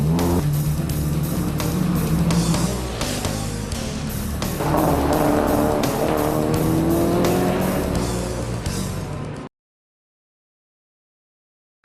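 A modified Mazda RX-7 street racing car on a Japanese street throws out a loud, continuous engine roar with rising revs and tire noise, then cuts off abruptly into silence near the end.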